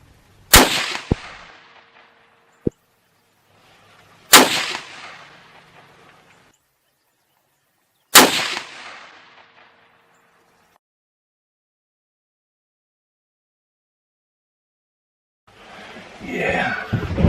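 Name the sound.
338 Win Mag rifle gunshot while hog hunting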